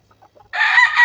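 Chickens and a rooster in a small backyard coop, a loud, close crow starting midway after a few faint clucks, alone without talk.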